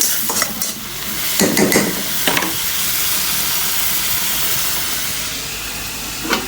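Fish frying in a garlic and onion paste masala gives a loud, steady sizzle and hiss, with a few sharper bursts of spatter and stirring near the start and again at the end.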